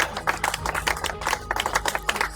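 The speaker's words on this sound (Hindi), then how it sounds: "तो राउंड ऑफ अप्लॉज, तालियां इनके लिए, अभी बड़ी तालियां" A group claps for Mrs Farhad in a rhythmic, fairly close burst of hand claps with crisp individual slaps, lasting a couple of seconds with no speech over it.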